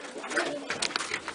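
Pigeons coo softly beside a nest box holding a day-old baby pigeon and an adult, with a short burst of close, muffled cooing calls and no talking.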